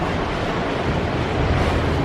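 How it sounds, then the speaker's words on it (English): Steady roaring wind with gusts around 30 miles per hour buffets the microphone, a loud continuous rush with a slight swell toward the end and no voices. "It's very windy today. We have like 30-mile-an-hour gusts."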